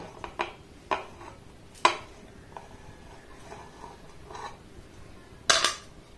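Pieces of amla drop one by one into a mixer grinder jar, each landing as a sharp hard clack, sparse and irregular, with a louder rattling clatter near the end in a quiet kitchen.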